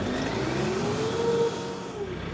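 A tractor engine cranks and catches, settling into a steady running drone with a rising tone partway through; loud and close, with no talk.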